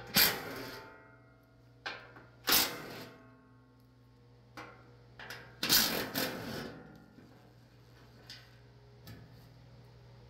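A ratchet loosens four 12mm skid plate bolts under a 2005 Tacoma, giving faint clicks and several sharp metallic clacks in uneven bursts against a quiet low hum.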